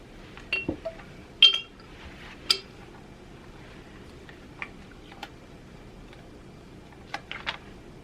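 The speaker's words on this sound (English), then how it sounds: "I'm going to go ahead and pop these out of the molds" Wax pieces popping out of candy-style candle molds, a handful of sharp little clicks and clinks scattered irregularly against a quiet background, close and fairly faint.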